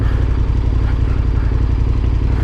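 A police motorcycle rumbles steadily through an off-road crossing, its engine a continuous mid-pitched drone close by with some clatter over rough ground.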